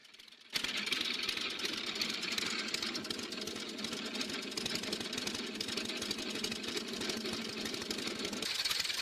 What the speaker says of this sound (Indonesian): Mesin 2 silinder dapat menghasilkan 4 tenaga kuda.